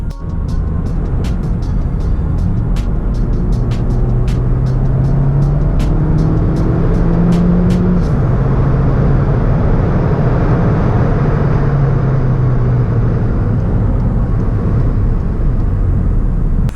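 A turbo-upgraded Volkswagen Golf GTE accelerates hard, its engine note rising steadily as revs climb through the gears, a loud continuous drone with road rumble beneath and no talking.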